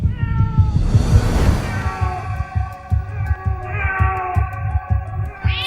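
A black cat meows loudly and repeatedly in long, drawn-out wails over a rhythmic, throbbing heartbeat-like pulse, close and distinct with no talking.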